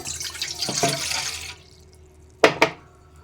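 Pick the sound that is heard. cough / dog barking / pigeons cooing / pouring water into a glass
pouring water into a glass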